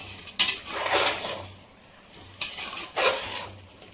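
Boiled eggs being stirred into biryani masala in a pan: two bursts of scraping and wet sizzling a couple of seconds apart, close and fairly loud, with soft frying underneath.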